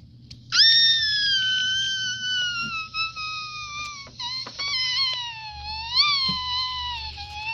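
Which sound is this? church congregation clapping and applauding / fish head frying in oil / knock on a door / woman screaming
woman screaming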